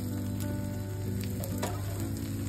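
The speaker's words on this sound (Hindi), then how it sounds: "बस मैं थोड़ा सा इसके आसपास तेल लगा दे रही हूँ ताकि आसानी से पक जाए" Vrat chila batter cooking in a pan with oil drizzled around its edges, a steady close sizzle and crackle of frying throughout, with a low hum and a few faint clicks underneath.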